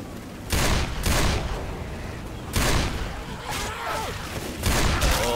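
Gunfire in the zombie shooter Left 4 Dead 2 arrives in several loud, close bursts of rapid shots separated by short lulls, with game noise filling the gaps.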